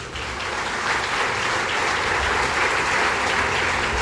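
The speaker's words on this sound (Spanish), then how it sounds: "¿Por qué no le da un fuerte aplauso, hermano?" A congregation applauds during a church sermon, a steady, dense wash of clapping that holds at an even level for the whole stretch, with no voices over it.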